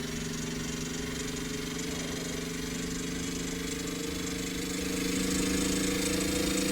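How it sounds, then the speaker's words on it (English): An 18-cylinder radial piston engine runs steadily, giving a droning, buzzing hum with a constant pitch that swells slightly louder toward the end, heard alone without speech. "I'm a big fan of how this engine sounds."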